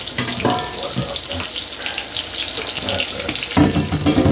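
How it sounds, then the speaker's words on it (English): Tap water runs into a pot for pasta in a home kitchen, a steady close splashing flow with some clanks and a louder swell at the end, with a brief bit of speech. "A little bit of water."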